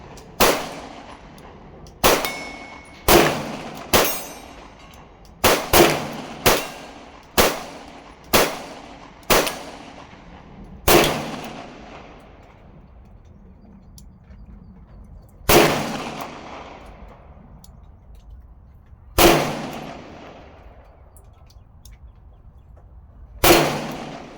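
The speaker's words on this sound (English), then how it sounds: "So the angle, double action. 6 rounds in this time." A Colt Kodiak .44 Magnum revolver fires six double-action rounds, loud sharp close blasts with ringing decay, first in a quick irregular burst, then slower spaced shots, with no talking.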